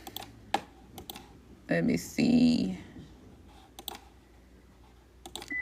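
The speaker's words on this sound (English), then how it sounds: "I don't like typing this." Computer keyboard typing in short bursts of clicks, with a brief stretch of speech in between; the keystrokes come close and moderately loud against a quiet room.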